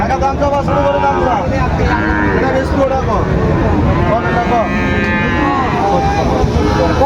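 Sahiwal bull calf and other cattle at a busy livestock market, with occasional moos rising over dense crowd chatter and continuous background noise throughout.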